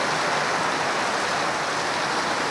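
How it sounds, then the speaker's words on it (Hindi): Heavy monsoon rain pours in a loud, even, continuous hiss, a dense downpour with no voices over it. "भयंकर बरसात आ रही है ना अभी।"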